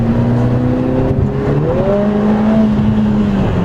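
A Lotus Emira's supercharged Toyota-based V6 engine hums steadily up close, its pitch rising briefly as it revs, with a faint exclamation of excitement over it.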